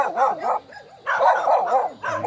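A dog on a rural farm lot barks in a quick series of loud, close yaps and bow-wows, about five or six barks in short bursts with brief pauses.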